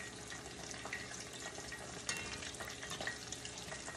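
Pumpkin flower fritters, eggplant slices and chillies fry in hot oil, giving a dense, steady crackling sizzle throughout with a few sharper pops, and no voices.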